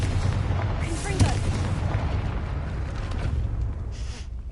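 A Confringo spell explosion in the video game Hogwarts Legacy lands as a muffled boom with a brief burst, set over a dense low rumble of game ambience that carries on steadily afterward.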